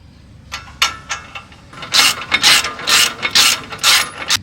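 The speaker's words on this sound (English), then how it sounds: "So I got my 1/2 inch drive ratchet" Half-inch drive ratchet and socket turning a caliper bolt on a 2018 Ford F-150 front brake, giving bursts of rapid close clicking that come faster and more evenly in the second half, with no talk.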